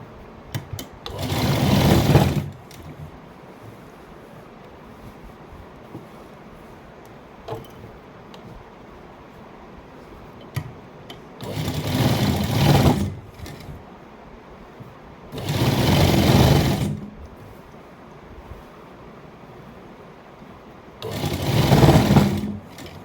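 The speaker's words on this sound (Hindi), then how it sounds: "उसके बाद अब इसको पूरी सिलाई लगा लेंगे।" An electric sewing machine stitches clothing in four separate bursts of rapid mechanical whirring, each lasting two to three seconds, with quiet pauses between them and no talking.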